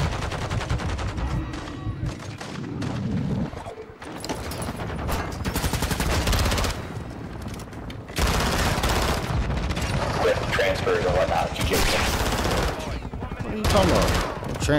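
Loud, rapid automatic fire from a VEL 46 in Modern Warfare 2 comes in long bursts separated by short pauses, with surrounding battle noise and some talk mixed in.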